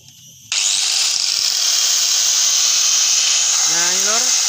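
An angle grinder with a repaired armature spins up abruptly after a quiet moment and runs loud and steady with a high, fairly smooth whine, its pitch sweeping slightly near the end.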